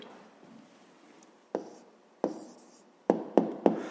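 A pen writing an answer on paper during a fifth-grade maths exercise: soft scratching with a few sharper strokes and taps, close and quiet.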